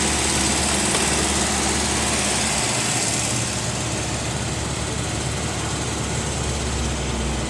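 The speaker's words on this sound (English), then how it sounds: "Let's see if I can get the idle back down." A car engine idles at roughly 1500 RPM while the idle is adjusted during a refrigerant recharge, holding a steady, fairly loud drone that stays near and constant with no talking.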